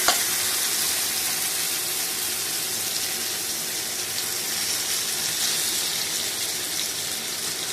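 Small fish sizzle loudly in hot oil and a well-fried spice paste in a pan, a steady bright hiss that carries on evenly with a faint stirring clatter and no talking.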